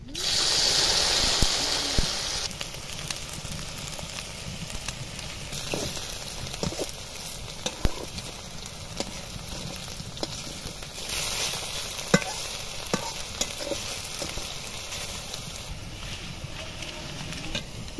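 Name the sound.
okra frying in hot white oil in a wok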